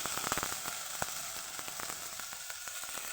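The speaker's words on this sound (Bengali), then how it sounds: "গোটা রসুন তো আমি এখানে দিচ্ছি" Whole garlic cloves sizzle in hot oil in a pan for a Bengali fish curry, a steady crackling fry with scattered pops, close and fairly quiet, no voices.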